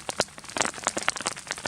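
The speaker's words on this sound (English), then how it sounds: "But I guess right above me, still rain." Rain falls outdoors during a rainstorm at an alpine lake campsite on a backpacking trip. It comes as a steady, close patter of drops striking a surface, dense and crackly, with no voices.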